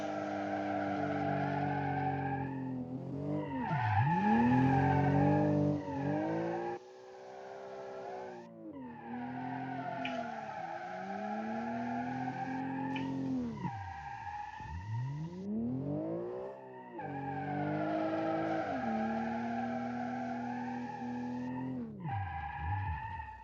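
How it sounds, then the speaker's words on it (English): In BeamNG, long, wavering tire screeches rise and fall repeatedly over a steady boxer six engine roar, several skids in a row, loud and close. "it can do amazing skids."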